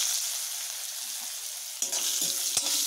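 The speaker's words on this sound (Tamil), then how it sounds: "எண்ணெயில் நல்லா வதக்கிக்கணும்." A piece of ginger fries in sesame oil for a chutney, a soft, steady sizzle close up, broken by a couple of brief clinks and stirring scrapes near the end.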